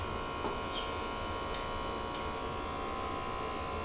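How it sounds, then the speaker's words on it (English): An electric hair trimmer buzzes steadily up close as it is pressed against the skin around the ear, holding an even, unbroken drone with no talking. "you can push this trimmer right up against the skin"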